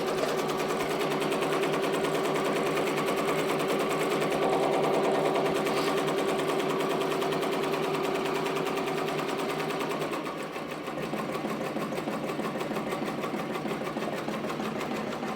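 A Ricoma MT 1501 embroidery machine stitches at about 700 stitches per minute, a steady rapid mechanical chatter that runs loud and close throughout, easing slightly near the end, with no talking.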